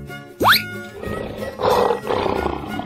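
Lion roar from an animal painting and crossing game: a sharp rising growl bursts out once near the start, followed by rumbling, grunting roars that swell and fade twice, loud and close with no talk.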